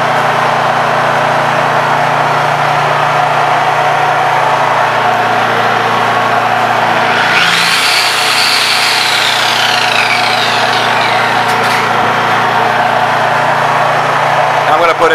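A Honda EU3000is inverter generator with an eco mode fault runs at a steady close drone, its pitch climbing and holding higher partway through before settling again, with a brief clatter near the end.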